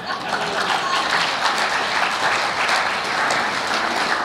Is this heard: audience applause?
yes